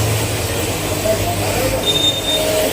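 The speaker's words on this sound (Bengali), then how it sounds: "লীলান এক্সপ্রেস বিকানির টু জয়সালমীর।" Leelan Express from Bikaner to Jaisalmer rolling along at night, with a steady loud rumble of wheels on rails, a low hum and thin metallic squeals rising above it. Some faint voices can be heard in the background.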